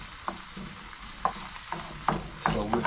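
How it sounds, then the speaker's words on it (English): Prawns and spinach sauté in a pan with a quiet, steady sizzle. A spatula gives periodic scraping stirs about every half-second to second, close by and with no talk. "So we're sauteing"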